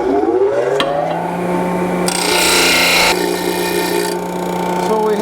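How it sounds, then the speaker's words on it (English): A power grinder smooths excess weld on square steel tube while a 1949 Chevrolet gasser steering column is installed, a loud close whine that rises in pitch, with a harsher gritty burst of grinding partway through. "Grind off the excess weld."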